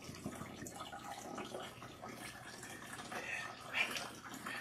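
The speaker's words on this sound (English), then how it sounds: "Rinse out the shampoo until you see that the water is nice and clean." Water runs and splashes softly while shampoo is rinsed out of natural hair, a steady quiet trickle with small drips and sloshes, fairly close.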